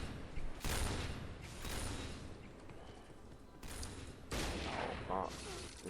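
Gunfire in a shooting video game, Point Blank, with rapid bursts of shots and mechanical clicks of a WA-2000 sniper rifle and other weapons, loud close volleys separated by short pauses.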